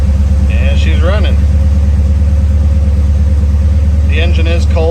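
A cold 1982 Chevrolet Corvette C3 engine idles close and loud at around 1,000 rpm, a steady rumbling drone throughout, while a person talks briefly over it at the start and again near the end.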